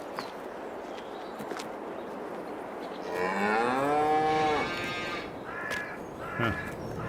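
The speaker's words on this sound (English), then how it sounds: "Just a lazy cow." A cow in Farming Simulator 22 lets out one long, loud, drawn-out moo midway, with a short caw-like call and soft footsteps around it over quiet farm ambience.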